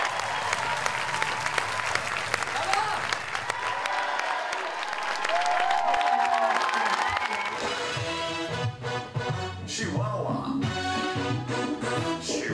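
Audience applause at a local year-in-review event in Royan, France, sustained dense clapping that runs loud throughout, with a cheering swell midway and music rising beneath the clapping toward the end.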